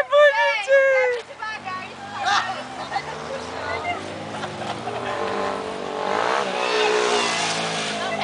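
A car passes at an outdoor gathering, its engine rising and holding steady under children's shouts and a crowd's chatter.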